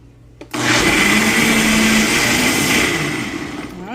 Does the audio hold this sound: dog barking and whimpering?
no